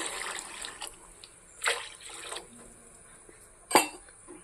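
Water poured into a pan of raw Rupchanda fish curry with coconut paste, heard as a brief splash and trickle followed by a couple of sharp clinks of utensils against the pot.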